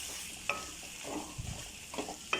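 Yogurt being roasted with minced meat in a pan over a low flame gives a faint sizzle with soft scraping stirs and a few sharp clinks of the spoon against the pan.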